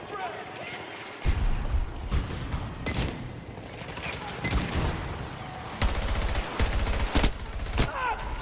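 Battlefield 6 multiplayer gunfire rattles in repeated rapid bursts of automatic shots and sharp single cracks, loud and close, with a player's voice talking over the action.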